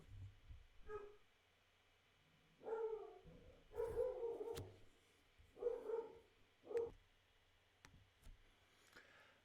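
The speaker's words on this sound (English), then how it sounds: "Sorry, my dog decided to bark." A dog in a home barks in about five separate bursts, some doubled, at moderate loudness, with quiet pauses between them.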